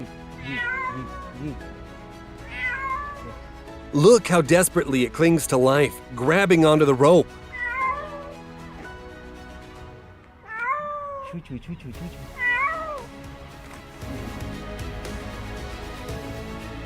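A small kitten rescued from the sea meows repeatedly in high, plaintive cries, with someone talking loudly in between and some outdoor noise.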